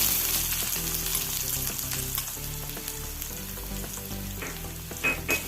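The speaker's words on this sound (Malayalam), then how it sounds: "ഒരു വലിയ സവോള ചെറുതായി അരിഞ്ഞതാണ് അതും കൂടി ചേർത്ത് കൊടുക്കുക" One large chopped onion sizzles steadily in a hot pan, with a few scraping clicks from stirring near the end; close and fairly loud, no talking.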